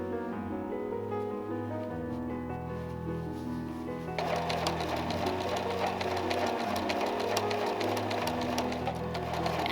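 A sewing machine stitches a seam on an 1872-style dress, a fast steady mechanical whir close by that gets noticeably louder and brighter partway through, with faint sounds in the background.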